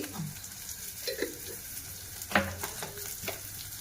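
Oil fries in a pan as turmeric powder is stirred in, giving a soft continuous sizzle broken by scraping stirs and one sharper clink near the middle, close and without talk.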